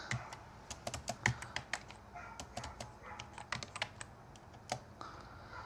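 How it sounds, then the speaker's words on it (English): Someone types a command at a command prompt on a computer keyboard, a quick run of close, light key clicks in uneven bursts over a faint background hiss. "And I type in SPM."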